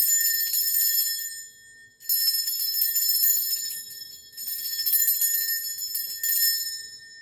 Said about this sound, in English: I'm going to ring this bell